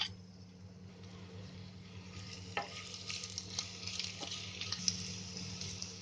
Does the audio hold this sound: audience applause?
no